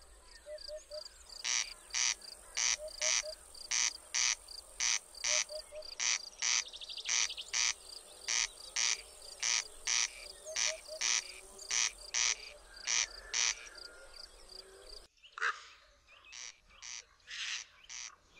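A corncrake calls repeatedly with rasping, mechanical double croaks in a steady rhythm, fairly close and loud, continuing through a brief cut.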